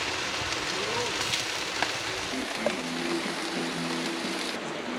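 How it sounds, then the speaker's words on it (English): Rain comes down steadily through a South African braai at a glamping site in the KZN Midlands, a constant close hiss with faint talk and a few light knocks beneath it. "The rain is coming down."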